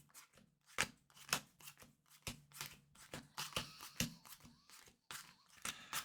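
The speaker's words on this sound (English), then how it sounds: "And what we'll do is we'll do a shuffle like this as well." A deck of playing cards being shuffled for a Marvel Champions card game, Spider-Man versus Rhino, heard as repeated crisp riffling bursts close by, with faint low background hum and no talk.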